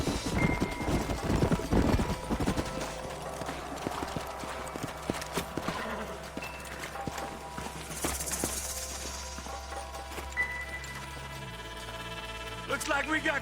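Horses trot in Red Dead Redemption, with steady, close clip-clop hoofbeats and an occasional whinny running under in-game dialogue and background music.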